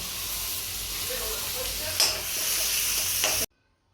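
Cumin seeds sizzle in hot butter with a steady, close frying hiss and a brief sharper crackle near the middle; it cuts off abruptly after about three and a half seconds.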